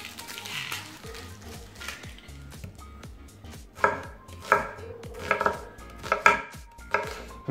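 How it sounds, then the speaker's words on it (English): A knife chops a whole white onion into small cubes on a board, with a soft scattered start that builds into sharp, rapid, evenly spaced cuts that grow louder near the end. "let's start chopping onion"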